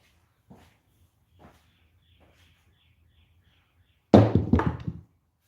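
Dice thrown on a craps table during a casino craps game: two faint taps early on, then a loud clattering tumble of rolling dice near the end, with no talk.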